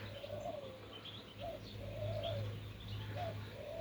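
Pigeons cooing in a dovecote, a soft repeated rolling coo several times over a steady low background hum, moderately close.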